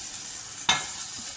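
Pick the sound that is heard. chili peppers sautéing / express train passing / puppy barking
chili peppers sautéing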